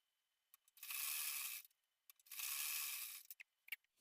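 A sewing machine stitches blouse fabric in two whirring bursts of under a second each, separated by short pauses and surrounded by small clicks and taps.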